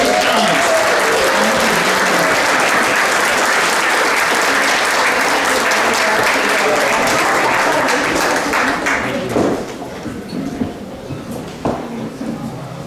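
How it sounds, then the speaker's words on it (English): A concert audience applauds a young writer, a loud, dense, sustained wash of clapping from a large crowd that thins out and fades toward the end. "good applause to this young writer."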